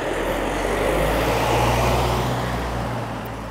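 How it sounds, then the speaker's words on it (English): A car passing by on a road, heard as a steady broad rush of tyre and engine noise that swells slightly in the middle and fades a little toward the end, with no talking. "oh, car coming, I'm going to stop talking for the car to pass"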